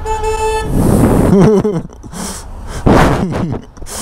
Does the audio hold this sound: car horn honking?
yes